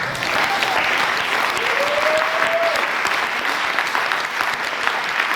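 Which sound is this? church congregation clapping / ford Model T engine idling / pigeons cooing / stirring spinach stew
church congregation clapping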